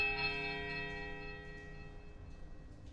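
A large temple bell in Pillars of Eternity peals once with a strange, uneasy ring, its long metallic tone decaying slowly under a faint background.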